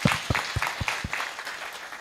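A few rhythmic hand claps of audience applause at a workshop, faint and sparse, fading out over a couple of seconds.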